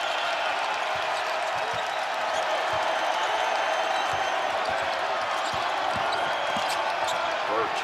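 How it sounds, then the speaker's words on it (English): Arkansas Razorbacks home crowd roaring at a college basketball game against Baylor, a steady loud wall of cheering and noise with sneaker squeaks and ball bounces scattered through it. "The Arkansas crowd trying to get the Razorbacks in this game"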